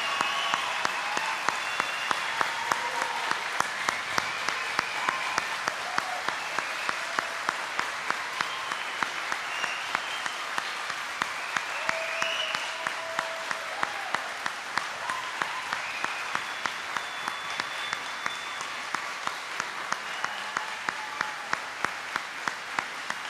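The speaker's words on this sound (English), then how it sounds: "stand up, and let's give them a big round of applause." Long, steady applause from a standing audience at a middle school closing ceremony, dense clapping holding an even level for over twenty seconds, with some rhythmic claps standing out.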